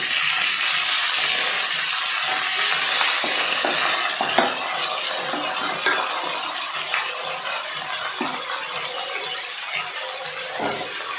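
Vegetables tossed into a hot pan for puti fish chorchori, with green chillies already frying, sizzling and hissing steadily while occasional stirring scrapes and clatters sound up close; no talking.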